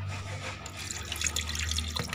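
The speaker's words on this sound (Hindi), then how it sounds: "जग के अंदर पहले खुबानी जो हमने भिगो के रखी हुई थी पानी समेत डाल के" Soaked apricots and their soaking water are poured into a blender jug while making sweet potato chaat. The liquid pours and splashes steadily and close, with no talking.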